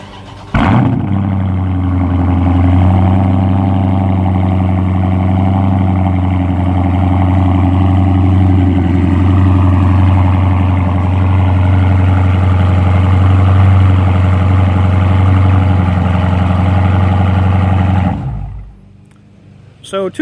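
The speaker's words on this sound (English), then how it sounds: "Go ahead and start it up, and you can hear the" A 2015 Dodge Charger SRT392 V8 with mufflers and active exhaust deleted fires up with a sharp bark, then settles into a loud, deep, steady rumbling idle for about seventeen seconds before shutting off abruptly.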